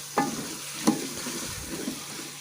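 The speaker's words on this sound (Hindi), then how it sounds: "इससे भी अच्छे तरीके से मिक्स कर लें इसमें" Potatoes stirred in a frying pan with oil sizzle steadily while a spatula scrapes through them, two distinct knocks against the pan standing out over the hiss, near and alone.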